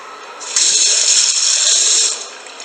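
An unbranded public-restroom hand dryer, an older model, kicks on with a loud, steady rushing hiss of air, holds for about a second and a half, then winds down abruptly.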